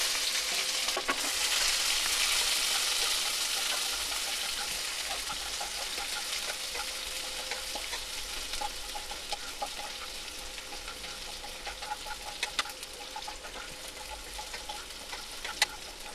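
Onion and curry leaves fry in hot oil for vada pav, a dense, steady sizzle close up that eases slightly over time, with scattered crackles and stirring scrapes toward the end and no talk.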